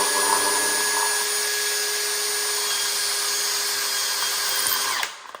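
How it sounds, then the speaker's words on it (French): A power drill at fairly high speed bores a hole in a plastic electrical box, a loud, steady, whining grind held for about five seconds before it winds down and stops. "vous prenez la boîte comme ça et vous percez à étage"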